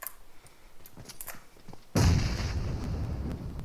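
A grenade goes off in PUBG Mobile partway through, a sudden loud, deep blast with a rumbling tail, after quieter scattered pops and faint background game noise.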